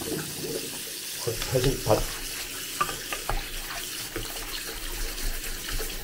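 Water runs and drains down a bathroom washbasin after the drain has been cleaned, a steady splashing gurgle with brief louder surges, while a person talks over it.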